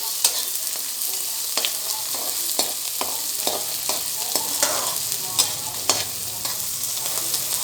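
Sliced onions fry in a pan over high heat, a dense steady sizzle broken by frequent sharp scrapes and clicks of a spatula stirring them close by, with no voices.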